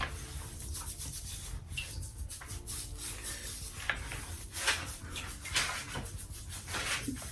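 A scalp scrub being worked into hair by hand, a close, continuous gritty rubbing and scratching with small uneven pulses, heard alone without talk.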